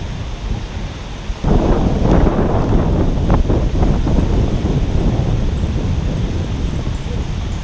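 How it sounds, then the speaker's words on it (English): Strong wind buffets an outdoor microphone, a loud, steady low rumble that rises suddenly after a quieter start and keeps roaring with gusty swells. "Seriously, a lot of wind."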